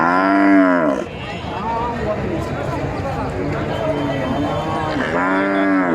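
A Friesian dairy cow said to give about 16 litres of milk moos loudly at a Bogura cattle market, with long drawn calls at the start and again near the end and a steady crowd and talk in between.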